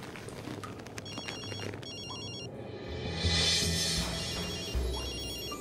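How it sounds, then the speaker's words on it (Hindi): A phone rings with an incoming call in a quiet indoor scene from a Turkish drama, its repeating electronic ringtone fairly close and clear, with soft background movement and no talking. "तुम्हारी कॉल आ रही है।"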